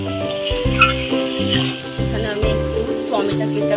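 Spice paste for mutton curry sizzles and fries steadily in hot oil in a pan, a continuous crackling hiss running beneath louder background music.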